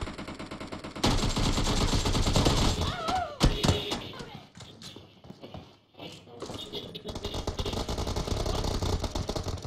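Rapid automatic gunfire in PUBG Mobile, a burst of loud shots with thuds and impacts, then a short lull before steady game sounds resume.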